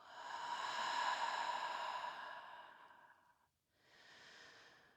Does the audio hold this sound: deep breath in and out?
yes